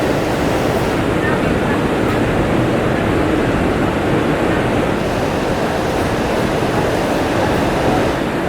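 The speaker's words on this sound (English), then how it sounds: "It is the morning after the storm and I am watching the waves outside." Ocean surf the morning after a typhoon off Siargao in the Philippines, a loud continuous roar of breaking waves and wash with wind rumble, close and unbroken throughout.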